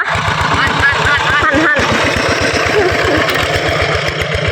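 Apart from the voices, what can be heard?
walking tractor engine running in a rice field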